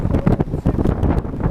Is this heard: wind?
yes